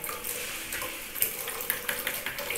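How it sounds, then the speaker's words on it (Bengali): Egg and gram flour (besan) are stirred together in a bowl, making quiet, continuous wet scraping and clicking close by, with no voices. "এইবার আমি এটাকে ভালো করে মিশিয়ে নিচ্ছি বেসনের সাথে।"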